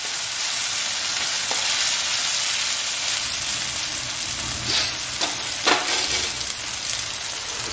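Garlic ginger paste fries in a pan for a chicken dish, a steady close sizzle with a few scraping stirs of a spoon near the end, no voices over it.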